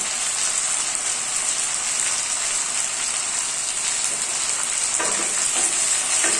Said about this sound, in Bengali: পেঁয়াজ ভাজা হয়ে গেলে তারপর দিয়ে দেব টমেটো কুচি।